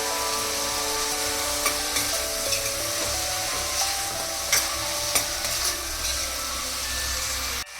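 Tomatoes and onions sauté in a pan for pav bhaji, giving a steady close sizzle with repeated sharp scrapes and knocks of a spoon stirring against the pan, loud and continuous with no talking.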